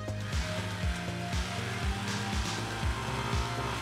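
A car engine in an open-road survival video game drones steadily with repeated rising revs and gear shifts, loud and close, with no talking.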